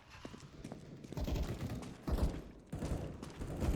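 Footsteps in Counter-Strike: Global Offensive during a competitive match, a series of quick thudding steps mixed with faint mechanical clicks, close and moderately loud, growing denser in the second half.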